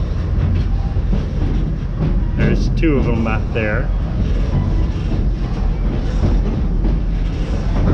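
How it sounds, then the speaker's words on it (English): A theme park train at Busch Gardens Tampa rumbles steadily along its track with a continuous low clatter, while a person talks over it near the middle. "Whereas this train should be leaving the track shortly."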